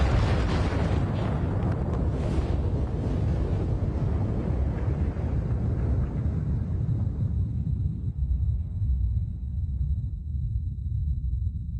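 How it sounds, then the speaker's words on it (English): A supernova explosion sound effect: a deep, roaring blast rumbles on and slowly fades, a dense wall of low noise that loses its brighter edge over several seconds. "It crashes inwards and explodes."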